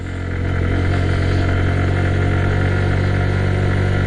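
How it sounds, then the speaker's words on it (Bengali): A heavily loaded motorcycle pulls uphill in first gear on a mountain road to Sajek, its engine a loud, steady, close drone that swells over the first half second and then holds at a constant strained pitch. "একটু ফাস্ট গিয়ারে নিলাম বাইকটা, কারণ বাইকে মোটামুটি লোড আছে, এই জন্য ফার্স্ট গিয়ারে নিয়ে নিলাম।"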